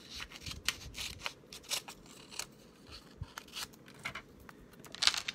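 Scissors snipping off excess Post-it note paper, a string of small, quick, close cuts in irregular bursts, quiet overall with no talk.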